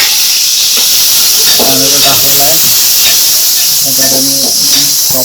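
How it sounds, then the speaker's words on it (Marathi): Tomato dropped onto onions frying in a pan for a Konkani-style crab curry gives a loud, continuous close hiss and sizzle, with faint tonal background sounds underneath and no clear speech. "आता आपल्याला त्याच्यावर टॅमॅटो टाकायचा"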